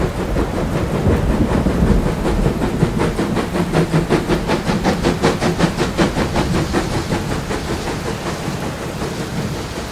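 A model passenger train runs across the Ravenna Viaduct on a Black Forest (Hochschwarzwald) model railway layout, giving a steady, close rhythmic clatter of wheels over rail joints that fills the whole stretch with no talking.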